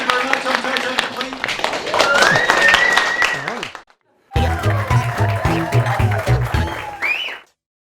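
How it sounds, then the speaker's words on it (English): A stage comedy show audience applauding a comedian, steady dense clapping that swells then breaks off, followed by another round of clapping with a voice speaking over it. "Another round of applause for Marco."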